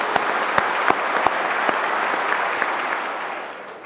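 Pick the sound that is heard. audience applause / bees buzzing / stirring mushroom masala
audience applause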